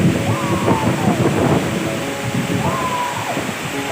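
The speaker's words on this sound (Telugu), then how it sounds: "ఇది గుండాల వాటర్ ఫాల్. సో చూడండి కింద నుంచి ఎంత బాగా ఫ్లో అవుతుందో." Gundala waterfall pours in a steady broadband rush, heard close in strong wind, with a voice talking over it.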